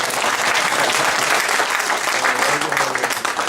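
Lecture attendees break into loud, dense applause, a continuous crackle of many hands clapping at full strength through the whole stretch without talk.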